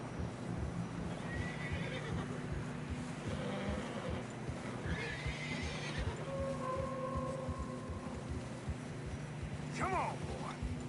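Horses plod through fresh snow in Red Dead Redemption 2. A steady low clip-clop runs under music and wind, with a couple of neighs and snorts near the middle and a sharp whinny near the end.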